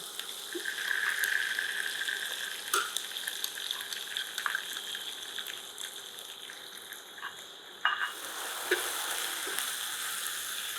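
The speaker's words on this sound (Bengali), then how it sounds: "এবার আমি জিরে বাটাটা দিয়ে দিলাম।" Ground cumin paste sizzling in hot oil in a pan, a continuous close frying hiss with scattered pops and clicks, a brief clatter near the end and the sizzle briefly louder afterward.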